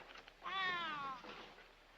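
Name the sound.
cat meowing in a 1942 film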